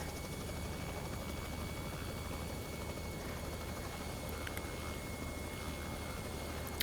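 Simulated Robinson R66 helicopter in the flight game X-Plane 11, a constant whirring rotor and turbine drone with steady broadband hiss, held evenly throughout with no voices.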